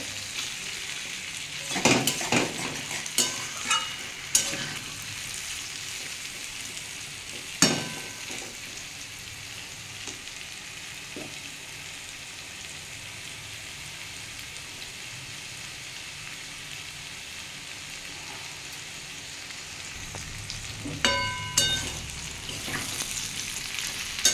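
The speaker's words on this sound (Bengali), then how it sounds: "এটা নেড়ে চেড়ে ভালো করে ভেজে নেবো বন্ধুরা।" Sliced pointed gourd and potato frying in a pan with spices, a low steady sizzle broken by scraping stirs and clinks of the spatula against the pan, with no talking.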